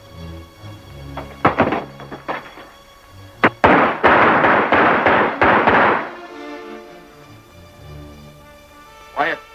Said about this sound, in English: let's riddle him with a bullet